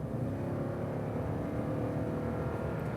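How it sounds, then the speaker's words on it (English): The V8 engine of a 2019 Toyota Tundra TRD Sport drones steadily in a low, even rumble, heard from inside the truck while driving, with no talking. "Man, you just can't hate on a V8. It sounds so good."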